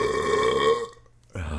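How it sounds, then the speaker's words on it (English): A single long, loud, close burp rumbles out with a drawn-out throaty tone, then trails off into brief silence before some noise resumes. "Did you blow another fucking burp?"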